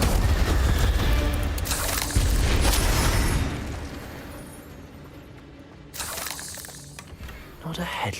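Spell blasts cast in the Hogwarts Legacy video game, loud booming whooshes and bursts in the first three seconds, a quieter lull, then fresh sharp blasts toward the end, with spoken incantations mixed in.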